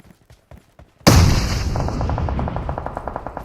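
Gunfire in the video game BGMI: after a second of faint soft thuds, a sudden loud close burst erupts into sustained rapid automatic fire with a regular rattling rhythm that continues to the end.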